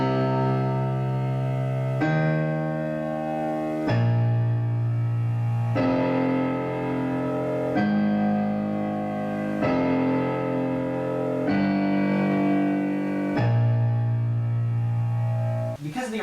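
Low piano octaves from the left-hand part of the Shin Gojira theme strike slowly, roughly one every two seconds, each left to ring in a steady, solemn sequence without speech.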